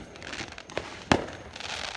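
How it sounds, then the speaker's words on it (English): Fireworks at a Fourth of July celebration pop at a distance, with a faint burst followed by a sharper, louder bang and a low crackling rumble in between. "Look at the fireworks."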